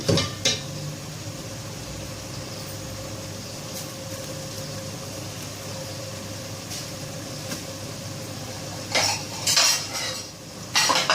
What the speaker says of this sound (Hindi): बस हम ये मसाले को डालकर भून लेंगे सब चीज़ों को।